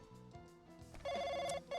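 A telephone rings in the video game Worming From Home, a bright electronic trill starting after a second and pulsing in two bursts over a faint background of game music, with no talk.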